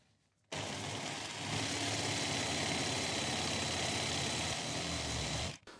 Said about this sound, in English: Got a fine-toothed steel cutting blade here in the jigsaw. This is 5mm steel.